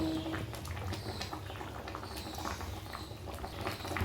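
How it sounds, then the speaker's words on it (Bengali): Fish in a yogurt gravy simmering in a pan over a medium gas flame, a steady soft bubbling and gentle popping close by with no talk. "সমস্ত মাছগুলো দিয়ে একটু ফুটিয়ে নেব এই সময় কিন্তু গ্যাসের ফ্লেমটা মিডিয়াম রাখবো"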